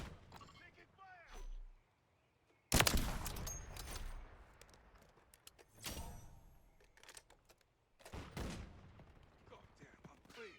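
Gunfire in a military shooter video game, with bursts of loud shots and sharp cracks arriving in separate clusters between quieter gaps, while radio-style voices and callouts talk over the action.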